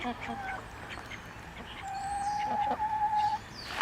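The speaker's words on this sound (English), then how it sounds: "All those chickens." A flock of chickens clucking and calling at close range, with short, scattered bird calls over a noisy background and a sudden louder sound at the end.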